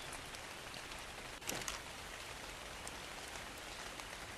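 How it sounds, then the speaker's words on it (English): Rain falls in the survival video game ARK, a steady, even hiss of downpour with soft drop ticks and one brief louder splash near the middle, with no talk. "It's raining?"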